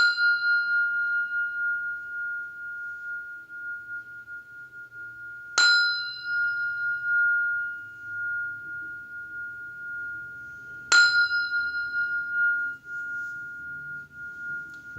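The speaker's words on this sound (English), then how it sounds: "I'll sound the bell." A meditation bell rings three times at evenly spaced intervals, each a clear bright strike with a long sustained tone fading slowly in a quiet room.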